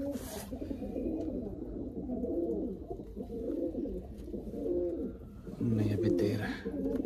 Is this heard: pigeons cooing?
yes